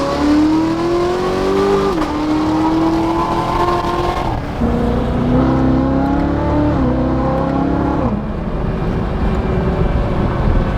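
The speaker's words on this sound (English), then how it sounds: "So to get those nice little crisp downshifts, you got to go 2 gears at once." A Chevrolet Corvette Z06 accelerates hard with crisp, quick downshifts, its loud engine note rising in pitch through several gear changes and dropping sharply between them, close and alone without talk.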